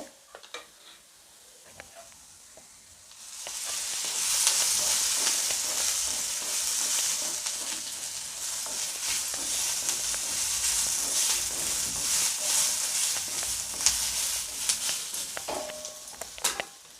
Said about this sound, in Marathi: कांदा चांगला भाजून घ्यायचा कांदा तांबूस कलर येईपर्यंत भाजून घ्यायचा